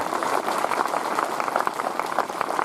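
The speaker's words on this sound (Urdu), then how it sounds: "ہمارے اتحاد کے نام ایک زوردار تالیوں کا شور جو تو گونجنا چاہیے" A crowd at a Republic Day unity gathering in Vaijapur breaks into steady, dense applause that carries on without pause, a continuous crackle of many hands clapping at a moderate distance.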